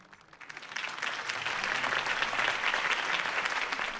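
Crowd applause follows Harvey Dent's campaign speech in the Batman Telltale video game. It swells in over the first half second, then holds as a dense, steady roar of many clapping hands.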